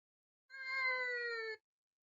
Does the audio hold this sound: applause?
no